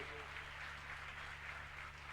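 Faint, steady applause from a crowd at an Independence Day ward gathering, a continuous wash of clapping heard from a distance at low volume.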